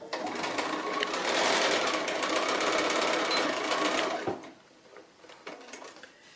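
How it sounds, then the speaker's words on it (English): Sewing machine stitching across joined fabric seams on a Christmas Santa craft piece, a loud, rapid continuous whirring run of about four seconds that stops abruptly, followed by faint handling sounds. "bringing the two seams together, and then we're going to stitch across that piece on both ends there"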